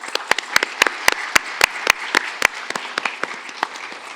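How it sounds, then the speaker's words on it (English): An arangetram audience applauds steadily, a dense wash of many hands clapping with sharper individual claps standing out, fading slightly toward the end. "Let's give them another round of applause."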